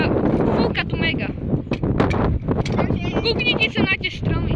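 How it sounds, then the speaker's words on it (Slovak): Strong wind blows outdoors during a scooter outing, buffeting the microphone with a dense, continuous rumble beneath nearby voices talking throughout. "Fúka tu mega."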